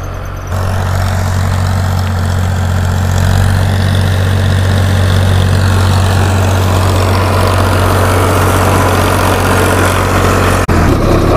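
Farmtrac 60 EPI tractor engine running steadily at 1700 rpm, a loud, continuous low diesel drone with a strong even hum, close by and alone throughout, ending with a brief knock near the end.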